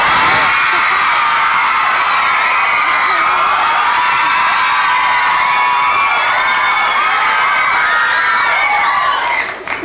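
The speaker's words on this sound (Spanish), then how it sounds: "השמיעה שלכם היא לא נפגעת כתוצאה מכל הצרחות האלה שאתם שומעים כל היום וכל הלילה?" Fans of the Argentine series Casi Angeles scream and cheer in Israel, a loud, dense crowd of high-pitched shrieks and whoops sustained throughout.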